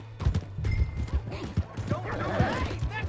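Hooves clip-clop at a steady walking rhythm from a horse in Red Dead Redemption 2, set in the town of Valentine, heard close and continuous beneath a low steady hum and intermittent talk.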